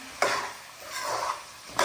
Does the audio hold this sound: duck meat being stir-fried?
yes